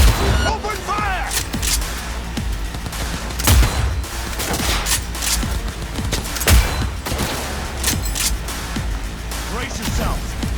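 A heavy firefight in Cyberpunk 2077: rapid, loud gunshots and booming impacts crackle steadily throughout, with shouted in-game voices over the barrage.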